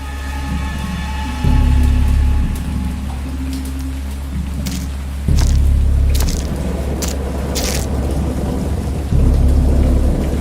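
Thunderstorm in the horror video game Dagon: steady heavy rain throughout, with three deep rolling thunder rumbles swelling up at regular intervals, loud and close, no voices.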